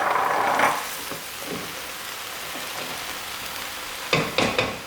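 Vegetables with carrots stirred in a sizzling frying pan for a summer squash biryani, a soft continuous fry under a couple of scraping strokes early on and a quick burst of clattering stirs near the end.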